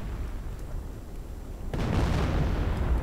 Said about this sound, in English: And we are now hearing artillery.